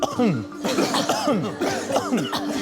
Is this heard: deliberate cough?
yes